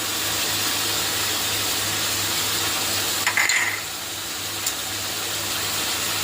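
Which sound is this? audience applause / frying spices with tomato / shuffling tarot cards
frying spices with tomato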